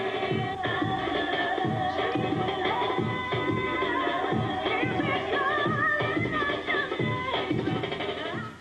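Smooth soul music with a sung vocal melody over a steady rhythmic backing, continuous and fairly loud.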